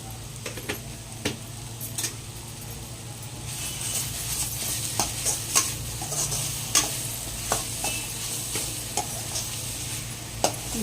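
Beetroot fry being stirred in a pan, with a steady sizzle and repeated clicks of a spoon scraping the pan, close and continuous throughout, no talking.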